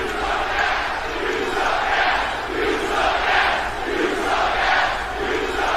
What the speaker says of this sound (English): the crowd is pulling no punches